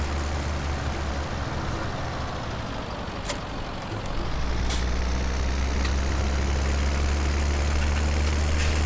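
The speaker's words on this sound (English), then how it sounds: "I think it's a decent tractor" A tractor engine idles in Farming Simulator 17 with a loud, steady low rumble that deepens and strengthens partway through, with a few faint clicks over the drone and no talk.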